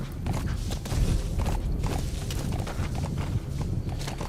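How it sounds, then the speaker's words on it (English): Horse hooves clip-clop steadily in Metal Gear Solid V: The Phantom Pain, a continuous rhythmic trotting at close range with no speech over it. "My horse can barely make it through."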